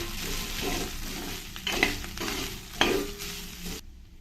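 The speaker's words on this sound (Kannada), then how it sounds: "ಎಣ್ಣೆಯಲ್ಲಿ ನುಗ್ಗೆಕಾಯಿನ ಸ್ವಲ್ಪ ಫ್ರೈ ಮಾಡಿಕೊಂಡ್ರೆ ಟೇಸ್ಟ್ ಚೆನ್ನಾಗಿ ಬರುತ್ತೆ" Drumstick pieces fry in oil for drumstick pulao, a steady close sizzle with a couple of distinct stirring scrapes, before the sound cuts off abruptly near the end.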